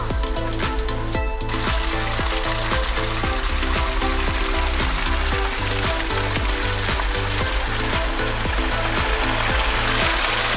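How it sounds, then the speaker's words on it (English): A tiny waterfall splashes and trickles steadily up close on a hiking trail. The rushing hiss holds constant, with rapid pattering spatters layered through it. "A tiny weeny baby weeny waterfall"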